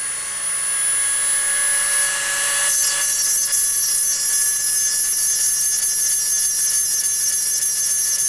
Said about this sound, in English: for reassembly ease, I like to grind down the post